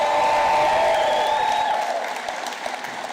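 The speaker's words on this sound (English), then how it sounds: "give them a round of applause" A rally crowd in Philadelphia at a governor's reelection campaign launch breaks into applause with a few whoops and cheers, loud at first and then tapering off, while a sustained tonal hum lingers above the clapping.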